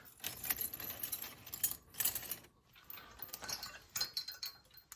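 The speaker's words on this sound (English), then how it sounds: "Here's a handful of keys." A handful of old rusty keys jangles and clinks in bursts, metal on metal, with brief pauses between shakes, close and fairly quiet with no voices.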